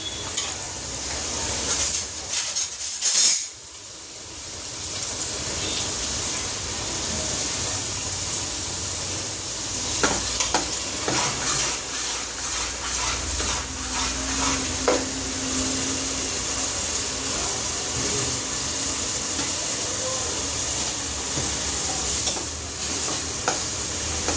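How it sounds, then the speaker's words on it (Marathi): A spoon stirs and sautés chutney in a pan for a crab curry, with steady sizzling and frying hiss, scraping strokes and clinks throughout, close and moderately loud with no talking. "थोडा वेळ पहिला चटणी हलून घ्यायची परतून घ्यायचे"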